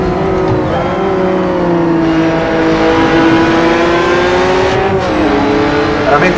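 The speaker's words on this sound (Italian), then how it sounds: "Veramente spettacolare anche il rombo di questo motore" Mini race car engine in Assetto Corsa roaring at sustained high revs, loud and close, pitch dipping and climbing through a gear change near the end, with no voice over it.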